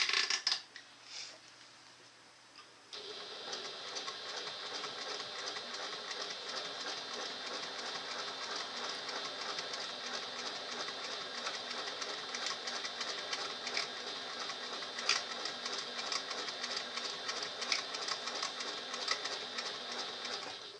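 A sewing machine runs steadily on a bag project after a few quiet handling knocks at the start, settling into a continuous rattling, clicking drone that holds for the rest of the clip.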